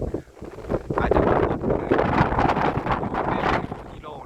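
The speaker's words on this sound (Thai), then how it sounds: "ยืนแทบจะไม่ไหวเหมือนกันนะครับผมลมค่อนข้างจะแรงครับ" Strong, gusty wind blowing across an open area in Thailand, roaring steadily into the microphone with rushing buffets, loud and continuous throughout.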